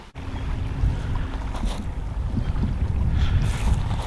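Steady wind rushes across an open fishing spot by the water on a fine day, a continuous low, buffeting roar that stays fairly even throughout, with no voices.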